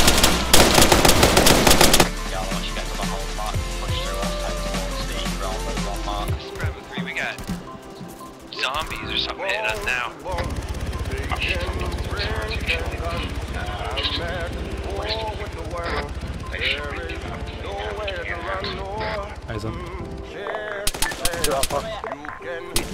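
Heavy gunfire in ARMA 3 military combat, with sustained automatic bursts and sharp single shots crackling loud and near, mixed with game sounds and shouted voices throughout.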